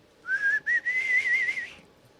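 A person whistles the melody of a song, a clear, loud, close whistled phrase of a few notes with a short break, lasting about one and a half seconds with no talking.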